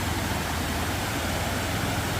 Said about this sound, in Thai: น้ำไหลแรงอยู่ล่ะ